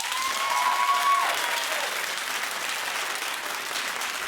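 A television studio audience applauds in a steady, dense wash of clapping that holds at moderate loudness throughout, with a brief whistle near the start.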